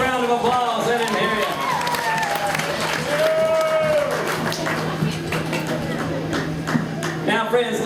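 Crowd applause at a lumberjack show, steady clapping from a large audience with an announcer's voice talking over it throughout.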